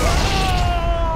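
Grenade blast in Halo: Combat Evolved Anniversary, a steady loud rumbling boom with a ringing sustained tone layered over it, filling the whole moment with no gaps.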